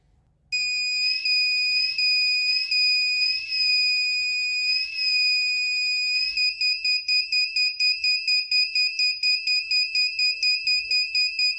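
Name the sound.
light-operated doorbell alarm ringing when torch light hits it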